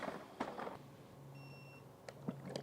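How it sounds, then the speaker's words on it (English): An Aiper Smart cordless automatic pool vacuum cleaner gives a single short electronic beep, faint and clean, set among soft handling knocks and clicks nearby. "I guess I should turn it off because it keeps beeping at me."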